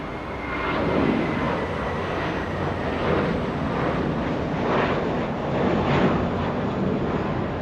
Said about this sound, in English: This one, little A321, American